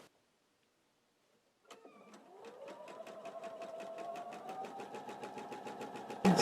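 A sewing machine chain piecing quilt blocks starts after a short silence, then runs steadily at a fast, even stitching rhythm, close and moderately loud, with a brief thump at the end.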